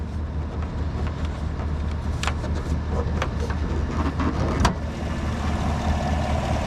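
A 2018 GMC Yukon XL's 5.3-liter Chevrolet V8 with cylinder deactivation idles under an open hood: a steady low engine rumble with a few faint clicks and ticks and one brief knock near the end.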